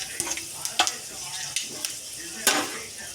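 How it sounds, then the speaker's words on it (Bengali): Panch phoron, bay leaf and dried chillies sizzling in hot oil for khichuri, a soft frying hiss broken by sharp pops and crackles of spluttering seeds, with faint utensil knocks. "দিয়ে দেবো 5 ফোড়ন, তেজপাতা, শুকনো লঙ্কা"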